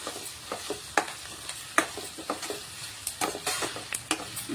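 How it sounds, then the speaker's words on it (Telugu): Chicken pieces for Telangana-style gongura chicken fry in oil until golden. A close sizzle runs throughout, and a spatula stirs and scrapes against the pan in quick, uneven strokes. "గోల్డెన్ కలర్ లో ఫ్రై అయిపోతున్నాయి ఫ్రెండ్స్"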